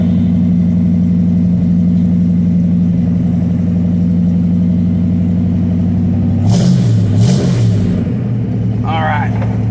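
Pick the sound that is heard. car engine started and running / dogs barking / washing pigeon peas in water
car engine started and running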